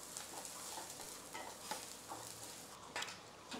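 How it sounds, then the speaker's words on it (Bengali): Onion frying in hot oil in a wok, a soft steady sizzle with a few scraping stir strokes, close and fairly quiet, with no talking. "পেঁয়াজটাকে একটু ভেজে নিই।"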